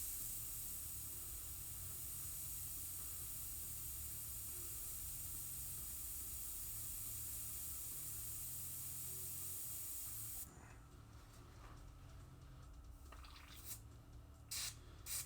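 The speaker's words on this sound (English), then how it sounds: "your airbrush isn't doing exactly what it is that you need it to be doing" An airbrush sprays paint in a steady, continuous hiss for about ten seconds, then cuts off, leaving a quieter room with a few brief bursts of spray.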